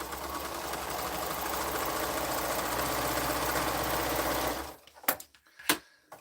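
A sewing machine stitches a quilt seam in a steady, continuous mechanical whir for several seconds, then stops, leaving a few short clicks and handling knocks close by.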